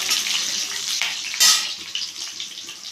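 Vegetables sizzle and hiss while sautéing in a pan for valakkai kola urundai, with steady frying crackle and a brief louder sputter midway.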